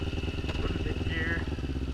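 Motorcycle engine idling steadily with a throbbing low pulse as it is clicked into gear, close and continuous, with a faint short whine partway through.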